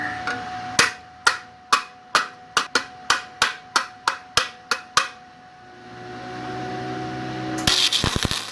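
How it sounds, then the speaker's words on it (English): About fifteen sharp metallic hammer taps in quick, even rhythm, close by, on a 2234cc aluminum bubble-top half long block engine, followed by a brief pause and a faint low hum, then a clattering rattle. "Hammer."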